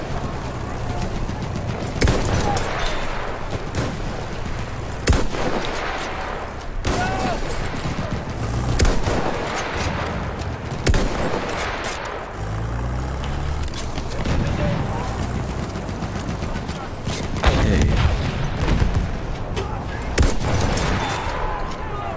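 Continuous gunfire and explosions in the video game Battlefield 1 multiplayer Conquest mode, rapid rifle and machine-gun bursts with booms throughout, loud and dense, with no break.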